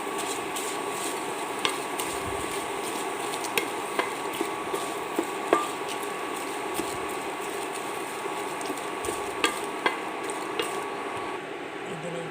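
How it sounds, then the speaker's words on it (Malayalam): A spoon stirs kuzhi paniyaram ingredients in a pan, giving faint scraping and sparse light clicks over a steady low background hiss. "ഇതിലേക്ക് നമ്മൾ ചേരുവ ചേർത്ത് വയ്ക്കാം നന്നായി ഇളക്കുക"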